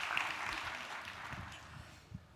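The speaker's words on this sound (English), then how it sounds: "Guys, I think we need a big round of applause for him" An audience at an international chartered accountants' conference in India claps, a soft, diffuse patter of applause that fades over two seconds, sounding somewhat distant.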